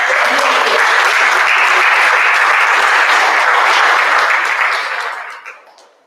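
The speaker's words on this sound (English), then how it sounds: "give him another round of applause" An audience at a school awards assembly claps steadily for a scholarship recipient, full applause holding for several seconds before tapering off to quiet.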